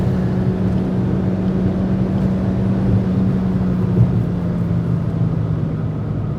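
A 2016 Suzuki Swift Sport's engine holds a steady, loud drone without break, a deep, sustained roar running hard at 6,000 to 7,000 RPM, with no voices.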